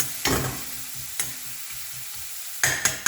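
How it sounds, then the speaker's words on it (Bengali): Onion and cumin powder sizzle as they fry for a katla fish curry, with a steady crackle broken by several sharp scraping stirs of the pan, close and moderately loud, with no voices. "জিরের গুঁড়ো আর পেঁয়াজটাকে লাল করে ভেজে পাঁচফোড়ন দিয়ে আমি মাছটাকে রান্না করছি।"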